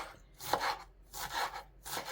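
Knife chopping greens, green onion and dill on a board, several bursts of quick rhythmic cuts, close and clear with short pauses between.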